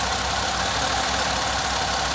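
A Ford Escape engine with a misfire runs at idle, making a constant, dense rumble and hiss with no pauses, close and fairly loud.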